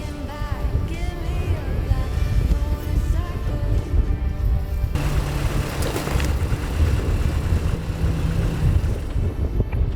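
The engine of an old restored truck runs on a trial run, a loud, steady rumble throughout, with a shift in tone about halfway through.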